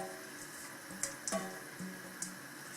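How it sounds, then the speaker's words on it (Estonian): Water runs from a tap or is poured into a cooking pot over pearl barley and peas for smoked-meat pea soup, a faint, steady trickle with a few small clinks and splashes. "Ja siis kallan talle vett peale."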